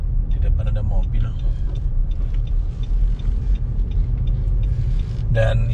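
A Nissan X-Trail 2.5 driving and turning around on a road, a steady low engine and tyre rumble heard from inside the cabin while someone talks over it.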